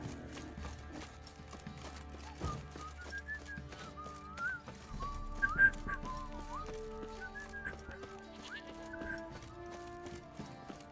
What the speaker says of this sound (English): my whistle skills suck